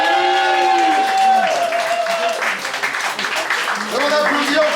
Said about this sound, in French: Et on applaudit encore jusqu'à temps qu'il arrive.